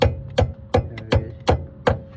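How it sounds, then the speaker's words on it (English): A hammer strikes metal six times in an even rhythm, sharp ringing blows close by, while lug nuts are being replaced on a 1991 Honda Civic fitted with Alfa Romeo rims. "Is this hammer better?"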